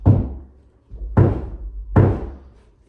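A newly hung door swinging against its frame and failing to close fully, giving three heavy wooden knocks about a second apart, close and solid, each dying away quickly.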